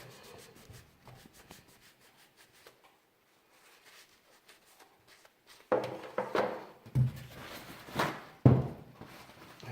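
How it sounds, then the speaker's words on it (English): Thermal paste being rubbed off a copper heatsink with alcohol, a dry scrubbing friction that starts faint and intermittent, then grows louder in strong rhythmic strokes near the end. "Just rub it off the copper heatsink."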